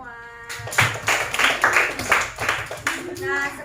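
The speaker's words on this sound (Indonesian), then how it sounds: "Oke, tepuk tangan dulu untuk semua." Students in a school classroom clap their hands together in a lively, close burst of rapid claps lasting a few seconds, mixed with a bit of voice.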